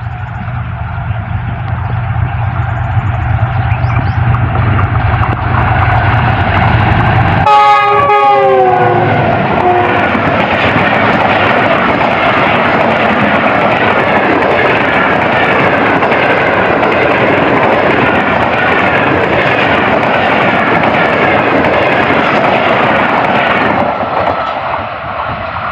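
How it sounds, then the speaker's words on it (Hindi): The Tezgam Express, hauled by a GU40 locomotive from Lahore toward Karachi, sounds its horn and then thunders loudly through a railway station at speed, a sustained roar of wheels and carriages that fades near the end. "8 तेज गांव एक्सप्रेस आ रही है जो कि लाहौर से निकली है और कराची की तरफ अप्रोच कर रही है और अच्छी स्पीड से पास थ्रू होगी।"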